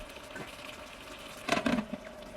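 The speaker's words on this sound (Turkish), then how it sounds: "Şimdi çıtır çıtır kızaracak." Oil sizzles and crackles steadily in a pan frying chicken drumsticks with garlic, with a brief louder spatter of frying midway and no voices.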